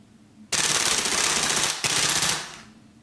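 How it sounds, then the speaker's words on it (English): Two long full-auto bursts from a GM MWS gas blowback airsoft rifle, loud and close, a rapid rattling stream of shots with a brief pause between bursts, no talking. "I'm going to do a full auto dump."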